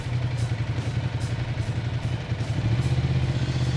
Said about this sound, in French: le son caractériel de cette V-Twin italienne qui ronronne bruyamment à l'arrêt et qui devient carrément enivrant en pleine accélération